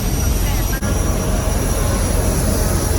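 A large airplane's jet engine roars steadily at an airport, a loud, broad, continuous rumble and hiss with a brief dip partway through.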